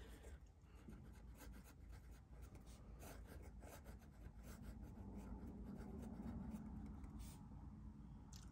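Sailor fountain pen with a medium-fine nib, inked with Sailor Shikiori, writing quickly on paper: a steady, close scratchy rubbing of nib on paper with continuous strokes and no talk.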